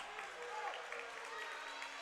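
Crowd in the Stroud Route 66 Coliseum gymnasium at a high school basketball game between Bethany and Weatherford, with steady clapping and crowd noise filling the hall and occasional boos mixed in, under a commentator's voice.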